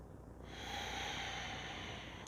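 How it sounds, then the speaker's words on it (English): Deep breathing during a yoga back bend, a long airy exhale or inhale that swells in after a short pause and holds steady, close and fairly soft. "Keep breathing."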